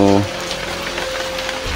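Heavy rain pours down in a steady, dense hiss that fills the scene after a brief tonal sound at the very start.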